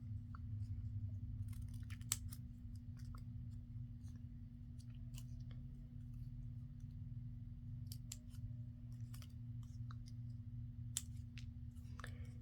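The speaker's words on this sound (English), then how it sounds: "And then we're just going to cut our little fish tails into our ends." Small paper scissors snip fish-tail notches into the ends of paper strips for a craft embellishment. The crisp, quiet snips and clicks come in scattered bursts over a steady low hum, with no talking.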